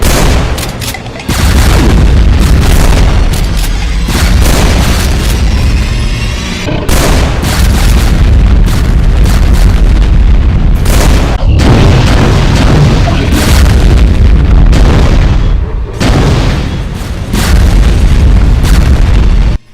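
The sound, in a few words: rapid BFG 10K attack explosions in the video game Doom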